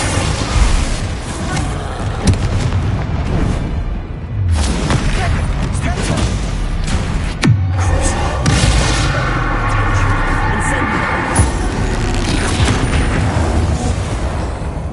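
Fire spell blasts in a Hogwarts wizarding video game land as repeated booming explosions. Dense crackling and rumbling effects fill the scene, with louder bursts scattered throughout and game voices mixed in.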